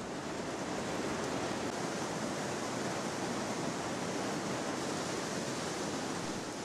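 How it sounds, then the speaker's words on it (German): Untamed wild water in the Breitachklamm gorge in the Allgäu, a steady, dense roar of rushing, churning torrent that fills the whole clip without pause or voices. "Das ungezähmte Wasser gurgelt und brodelt, sodass man kaum sein eigenes Wort versteht."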